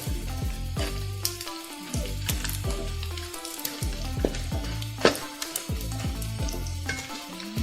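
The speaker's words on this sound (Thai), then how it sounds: "ทอดลูกชิ้นปลา" Fish balls fry in hot oil with a dense, crackling sizzle that bubbles in recurring surges, close and continuous, with no voices.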